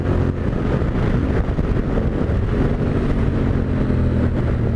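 A Yamaha Tenere 700 motorcycle riding along, its engine drone buried in heavy, steady wind buffeting on the microphone, loud and constant throughout with no talk.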